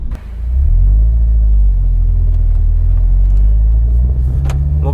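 Honda Civic Si FA5 engine pulling hard through the gears, a loud, steady low rumble that builds under acceleration, heard from close by with no talking.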